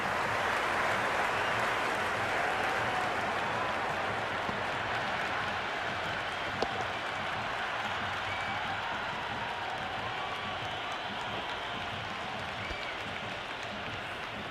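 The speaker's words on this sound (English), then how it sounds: "There's an almost tangible fervour throughout the crowd at the moment." A stadium crowd roars continuously in the cricket video game Cricket 26 during an IPL match between LSG and DC, a broad steady wash of cheering and clapping with a faint commentary voice beneath.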